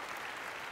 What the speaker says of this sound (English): How about giving them a round of applause right now?